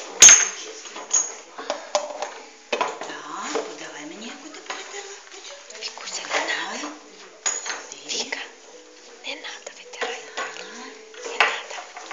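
Ceramic dishes clink and clatter as they are handed over and stacked in a kindergarten group, with scattered knocks and scrapes and a voice speaking intermittently.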